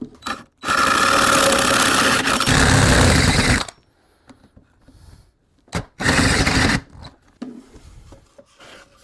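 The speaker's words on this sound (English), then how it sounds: "I totally just fried my drill" A power drill boring into wood with a 3-inch Forstner bit, the drill straining and failing. Two loud grinding, rasping bursts of several seconds each, with clunks and handling noise in the quiet between them.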